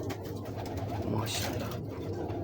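Ferozpuri pigeons coo softly and steadily in a low, continuous murmur, with a voice briefly heard over the birds.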